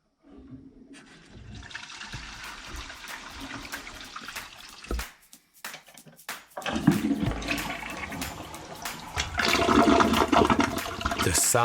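An old toilet in a 100-year-old house flushes with a rushing gurgle of water, briefly pauses, then surges louder as the tank refills with steady running water.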